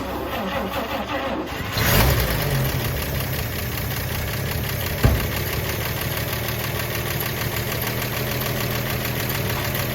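A 1950 Chevrolet Bel Air hardtop barn find's engine cranks and sputters sporadically on unfamiliar fuel, a steady rough mechanical drone with a surge near the start and a sharp knock midway, loud and close.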